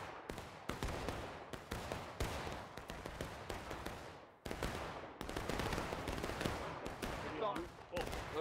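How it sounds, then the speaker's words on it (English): Musket fire in the Civil War game War of Rights, many overlapping shots rolling into a ragged volley and continuing crackle, moderately distant, with faint voices underneath. "Incoming volley."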